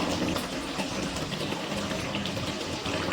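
Water goes into a pan of chicken curry, a continuous gushing, splashing pour with broad steady noise from start to end.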